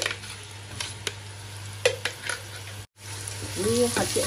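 Finely chopped onion sautés in a pan with spices, giving a soft, steady sizzle with intermittent stirring clicks and a brief silent break, while a low hum runs underneath.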